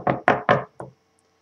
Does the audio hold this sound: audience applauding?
no